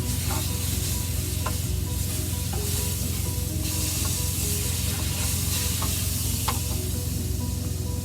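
Steak frying in butter in a pan, set in a truck: a dense, continuous loud sizzle with faint ticks and pops throughout.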